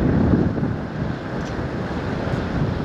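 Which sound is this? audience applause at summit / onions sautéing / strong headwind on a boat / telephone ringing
strong headwind on a boat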